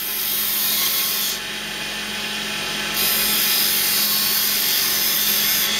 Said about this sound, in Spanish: vamos a pasarnos a la gubia de perfilar para darle un poquito de forma ya más delicada